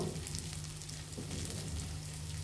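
Turmeric and chili powder sizzling steadily in hot oil in a pan, a constant fizzing hiss with a low hum underneath and no talk.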